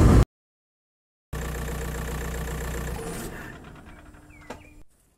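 A Skoda Fabia Mk1 1.9 PD diesel engine idles with a steady low rumble that fades somewhat toward the end, following a brief loud burst and a second of silence.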